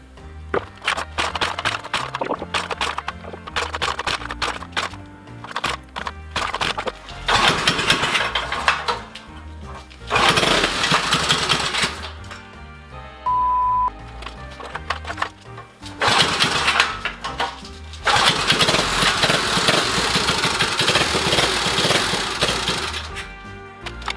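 A small minibike engine with a DIY billet flywheel sputters to life and runs unevenly, revving loudly in bursts with brief dips between, a rough mechanical clatter throughout.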